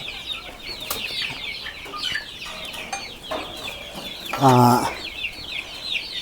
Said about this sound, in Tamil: இந்த நாட்டுக்கோழி பார்த்தீங்கன்னா சிறுவிடை அப்படின்னு பேர்